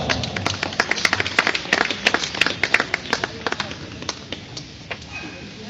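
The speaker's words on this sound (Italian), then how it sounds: "facciamo un bel applauso per Sasà Di Mauro" An audience claps to welcome Sasà Di Mauro onto a stage, with scattered, uneven hand claps rising and then thinning out, while a host's voice speaks over them.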